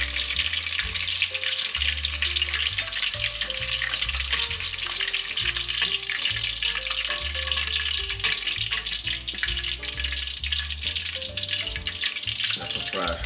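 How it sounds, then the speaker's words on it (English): Shrimp deep fry in a pot of hot oil with a loud, dense, continuous bubbling sizzle and crackle, close up, while a low voice or background tone runs underneath throughout. "That's some fried shrimp right there"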